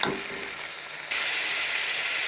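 Radish and tomato sauté in a pan for mullangi sambar with a close, hissing sizzle that suddenly grows louder and fuller about halfway through, then holds steady.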